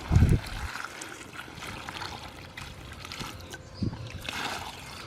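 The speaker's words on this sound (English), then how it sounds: "I add water to the hole." Water poured into a fence post hole dug in clay soil, with loose dirt already scooped in by hand, trickles and splashes close by, with low thumps at the start and again near the four-second mark.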